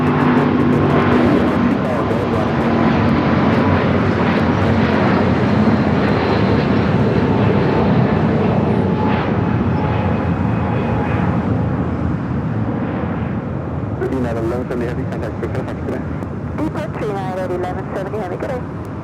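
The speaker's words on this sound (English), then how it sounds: "Flight heading to Honolulu." A night departure of an airliner from LAX bound for Honolulu: a loud, sustained jet roar dominates throughout, steady and broad, with a commentator's voice talking over it.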